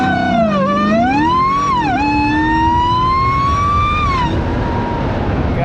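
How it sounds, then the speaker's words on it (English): A 2018 Dodge Challenger SRT Demon's high supercharger whine, heard from inside the car, rises and dips in pitch with engine revs, loud and close over a steady engine drone, then fades at the end. "you can hear the whine of the supercharger incredibly well in here"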